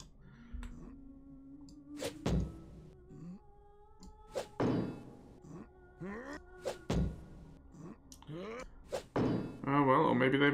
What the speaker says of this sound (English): maybe they made it not breakable despite it being a wooden door